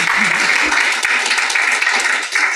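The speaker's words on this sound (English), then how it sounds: "a round of applause for these two" A conference audience breaks into applause after a talk, a dense, steady wash of many hands clapping close by.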